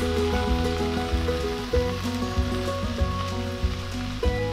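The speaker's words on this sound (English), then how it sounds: "Stir fry till transparent for about 3 minutes. Add tomatoes and all other ingredients." Onion, garlic and tomatoes stir frying in hot oil, a steady close sizzle broken by periodic stirring clinks and scrapes, with no talking.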